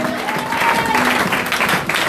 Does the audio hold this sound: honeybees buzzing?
no